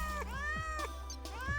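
Cats meow repeatedly in Terraria, several drawn-out, pitch-bending mews that come one after another over a steady low background drone.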